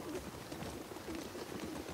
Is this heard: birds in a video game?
yes